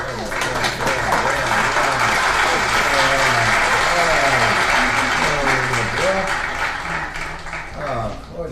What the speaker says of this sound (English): let's get another round of applause